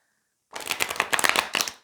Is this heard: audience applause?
no